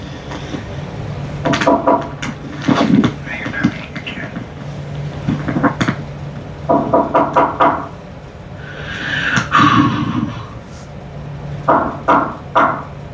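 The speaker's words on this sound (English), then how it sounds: "Keep the knocking, but you can't come in." Repeated bursts of knocking in a very old house, coming in short clustered groups with pauses between them, fairly close and moderately loud, with a faint voice murmuring underneath at times.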